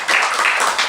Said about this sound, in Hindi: जोरदार तालियां शैलेंद्र के लिए।